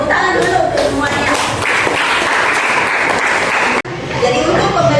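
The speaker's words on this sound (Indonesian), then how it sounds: "Oke, tepuk tangan dulu untuk semuanya." Students in a junior high school classroom give dense, continuous applause lasting several seconds, which breaks off abruptly and then picks up again.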